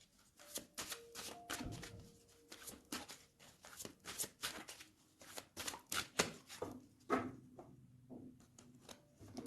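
Tarot cards being shuffled and cut by hand, a run of quick crisp riffling and slapping bursts up close, uneven in rhythm, with no voices.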